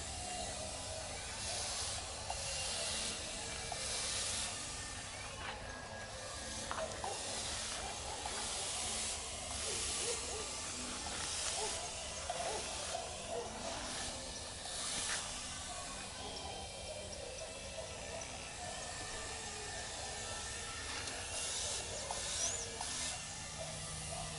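Spray gun applying paint to a Volkswagen Kombi van, a steady continuous hiss of atomized paint running throughout at close range, with faint workshop background and no speech.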